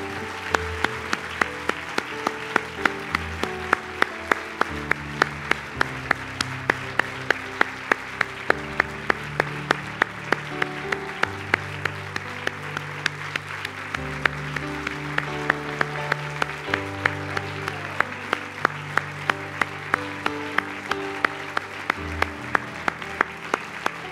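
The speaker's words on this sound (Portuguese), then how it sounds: "Então você vai pegar agora as suas mãos fortes e você vai aplaudir o nome de Jesus." Church congregation at a worship service clapping along in a steady, rhythmic beat over sustained music, the regular claps continuing for the whole stretch.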